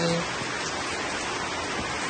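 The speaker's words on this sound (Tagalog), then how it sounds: "Enjoy po natin yung sitwasyon, umuulan." Rain falls steadily outside a window onto potted succulents, a dense, even hiss with no pauses, close and moderately loud.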